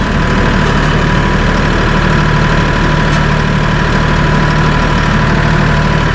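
A Massey Ferguson 1835E compact hydrostatic tractor engine runs steadily and loudly nearby at raised RPM while its loader raises. The drone is constant and vibrating, with a low throbbing hum and no breaks.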